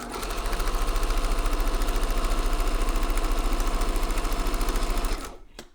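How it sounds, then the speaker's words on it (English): A sewing machine stitches down near the corner of a cloth protective mask in one continuous, fast, pulsing whir that runs evenly and then winds down abruptly to stop. "I'm going to go sew down close to the edge of the corner"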